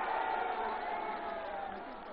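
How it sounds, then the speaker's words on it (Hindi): Crowd at a political rally and workers' conference in Ghazipur, India, clapping and cheering in a loud, steady wash of applause and shouts that fades slightly toward the end. "जोरदार ताली बजा के नौजवान का स्वागत करिए"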